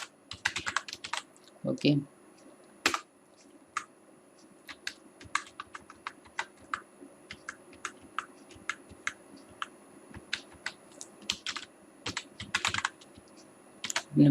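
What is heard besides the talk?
typing HTML code on a computer keyboard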